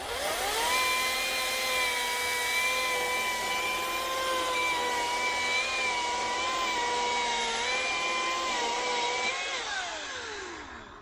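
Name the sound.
battery chainsaw cutting wood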